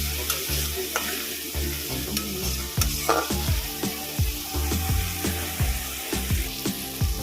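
Bengali mustard-poppy masala for bhola fish curry frying and being stirred in a pan, with a steady sizzle and repeated scraping strokes of the spatula at a close, moderate level and no talking.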